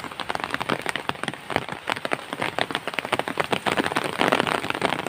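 Heavy rain pours steadily in a rural rice-farming area after the harvest, a dense, continuous patter of drops hitting surfaces close by, with no voices over it.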